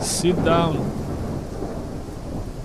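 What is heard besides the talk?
thunderstorm in Gothic Remaster video game mod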